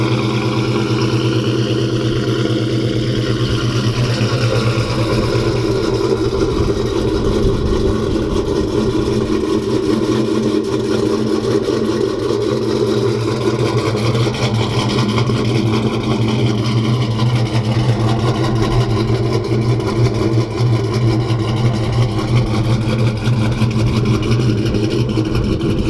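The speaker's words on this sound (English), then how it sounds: "Got that FRP Custom Grind Mark 82 a thumping in the driveway" A Mopar car engine with an FRP Custom Grind Mark 82 cam idles in a driveway on a windy day, a loud, continuous, lumpy thumping rumble that holds steady throughout with no voices.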